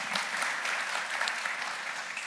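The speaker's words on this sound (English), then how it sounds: "we can clap for that" Dense audience applause at a business breakfast in the valley, steady and moderately loud throughout with no talk over it.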